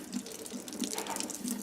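Water is squeezed from grated potatoes for latkes over a kitchen sink, a brief, soft, steady trickle and splatter into the basin, close by and fairly quiet.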